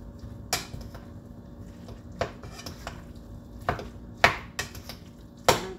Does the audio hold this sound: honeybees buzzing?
no